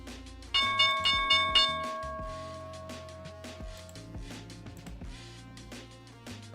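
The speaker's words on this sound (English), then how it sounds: "here's the opening bell" A stock market opening bell rings at the start of trading, a series of bright, rapid metallic strikes in the first couple of seconds that then decays into a long ringing tail over a low background hum.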